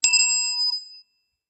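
A single bright bell strike with a sharp attack and clear ringing overtones that decays smoothly over about a second, heard alone in a quiet space.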